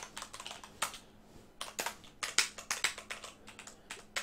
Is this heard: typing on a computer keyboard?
yes